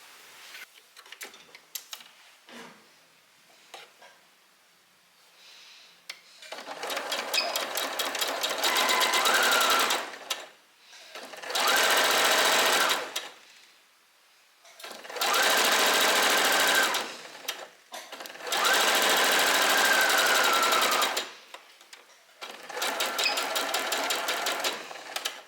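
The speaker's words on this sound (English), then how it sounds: "now I'm gonna sew along here" A sewing machine stitches along a fabric edge in five steady runs of rapid mechanical ticking, each lasting a few seconds and separated by quiet pauses with light handling noises, close up and with no talking.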